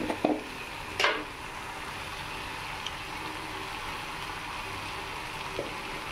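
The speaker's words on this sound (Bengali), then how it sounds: "তো গ্যাসের ফ্লেমটা কমিয়ে দিয়েছি, কমিয়ে দিয়ে একটু ভালো করে কষিয়ে দিই।" Pakal fish curry masala sautéing in a pan over a low gas flame, a steady soft sizzle throughout with a couple of brief scraping stir sounds near the start, no voices.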